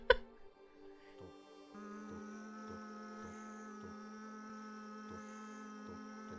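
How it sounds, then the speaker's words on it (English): A vacuum cleaner in the video game House Flipper 2 starts up as a quiet, steady electric drone with a regular pulsing tick that repeats roughly every two-thirds of a second. "The vacuum cleaner is always this bad."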